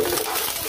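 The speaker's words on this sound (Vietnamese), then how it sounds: "Xong rồi mình sẽ chiên trứng." An egg fries in hot oil in a pan as a dense, continuous crackling sizzle, close and fairly loud, with no voices.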